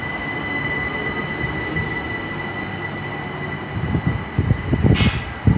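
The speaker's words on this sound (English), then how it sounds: "departing out now, the Class 387s, the unit numbers 142 and 149, heading to Didcot Parkway" A Class 387 electric train pulls out of a station, with steady rail rumble and high-pitched wheel squeal that swell and grow rougher as it picks up speed, nearby and without talk.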